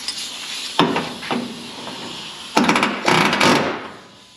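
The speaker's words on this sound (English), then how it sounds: "The air hammer, we just have a chisel bit on it." An air hammer fitted with a chisel bit works on an Oldsmobile in short, loud rattling bursts, with one quick hit, a pause, then two longer stuttering runs close by.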